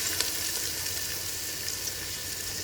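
Minced bean paste stir-frying in a wok with ginger garlic paste, a steady close sizzle and hiss running without a break and with no voices.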